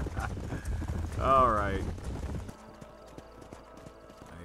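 Horse hooves clip-clopping in the Red Dead Redemption video game, a steady rhythm at moderate level under a voice, with a horse whinny partway through before the footfalls continue more quietly.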